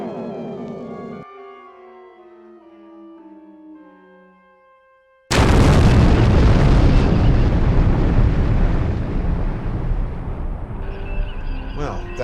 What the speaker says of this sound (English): Computer, fire torpedoes. Affirmative. Torpedoes away.